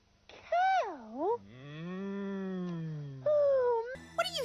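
A cow moos in long drawn-out calls, a rising and falling bellow followed by a sustained low moan, loud and close with no other sound around it.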